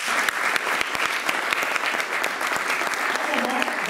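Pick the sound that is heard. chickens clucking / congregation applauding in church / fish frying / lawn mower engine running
congregation applauding in church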